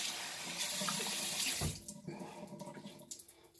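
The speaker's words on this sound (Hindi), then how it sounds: "अब मैं अपने फेस को पानी के साथ रिंस करूंगी।" Tap water runs steadily into a sink as someone rinses their face, a loud gushing stream that cuts off partway through, followed by softer drips and splashes.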